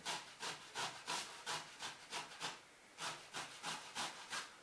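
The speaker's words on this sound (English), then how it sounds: "it's important for you to grate the cucumber, but you grate it with the skin" Cucumber with the skin on is grated for Greek tzatziki, a rhythmic series of about fifteen close, rasping strokes in a steady back-and-forth pace, with no talking.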